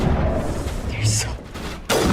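Sniper rifle gunfire in Mass Effect Legendary Edition on Insanity difficulty, a rumbling exchange of shots with crackling reports and a sharp, loud blast near the end, mixed under faint voice.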